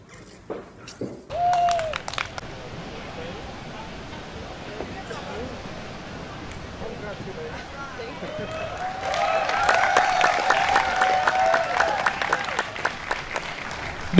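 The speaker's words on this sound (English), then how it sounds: "big applause to our best performance Dufry 2016" Applause at a corporate performance award ceremony in Bali: scattered clapping with some crowd noise, swelling into fuller, louder applause in the second half, while a voice speaks at the start.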